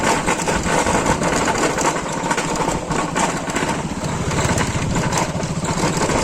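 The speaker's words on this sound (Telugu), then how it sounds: "ఒక బైక్ వస్తుంది" A motorcycle engine on a road on the way to a waterfall near Mancherial, heard as a steady, loud, buzzing drone that fills the whole stretch with little change in level and no voices.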